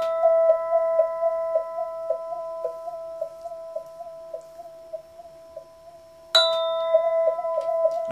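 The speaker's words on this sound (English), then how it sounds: "It's basically a kind of tubular bell, kind of handheld" A handheld tubular bell rings with a sustained, pure tone that wavers slightly in a pulsing wah, then a fresh louder strike rings out near the end.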